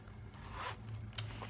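A zipper on the compartment of a Chanel wallet-on-a-chain clutch is pulled open in one short, quiet, close-up zip.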